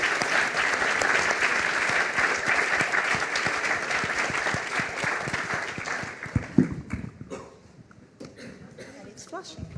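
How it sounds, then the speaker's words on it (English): A conference audience applauds a panel after a lively discussion, dense sustained clapping from a crowd that thins and fades out toward the end, with a few scattered late claps. "I want to give a great applause to our esteemed panel for the lively discussion"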